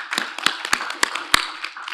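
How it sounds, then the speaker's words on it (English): A conference audience gives a quick round of applause for the session's speakers, a sparse scattering of separate claps, some sharp and close, spread unevenly across two seconds without much buildup. "Quick round of applause for the speakers."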